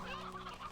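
Chickens in the Slime Rancher 2 video game let out a short, faint burst of clucking, quiet and brief with no talking over it.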